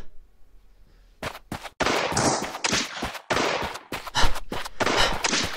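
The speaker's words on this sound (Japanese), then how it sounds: "夜中だからって、むやみやたらと発砲するのはやめてほしいな。" Rapid bursts of gunfire at night, a dozen or more loud sharp shots fired in quick irregular volleys after a brief quiet start.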